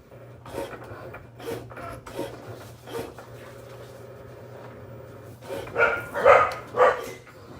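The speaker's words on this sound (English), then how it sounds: "What are my puppies barking about today?" Several dogs bark in repeated bursts, faint and somewhat distant at first, then louder and closer near the end, over a steady low hum.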